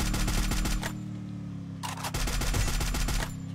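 Automatic weapon fire from the Free Fire battle royale video game, heard as rapid close bursts of shots in two runs separated by a short pause, over steady game background sound.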